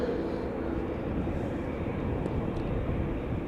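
A Finnair Airbus A350 departing Amsterdam Schiphol Airport produces a steady, broad jet engine roar, loud and close, holding evenly throughout without other sounds standing out.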